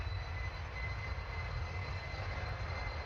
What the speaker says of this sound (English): The crew fired the moonship's rocket engines to gain speed,